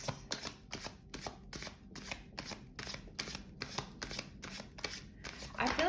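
Chakra cards are shuffled close up, giving a steady run of about a dozen evenly spaced riffling slaps, with a brief voice near the end.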